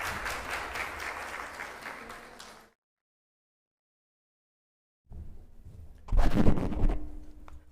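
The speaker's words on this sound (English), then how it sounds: "Come on, y'all clap." An audience claps at a Dubai real estate investment event, a steady round that fades out, then a gap of near silence before a louder burst of clapping rises again.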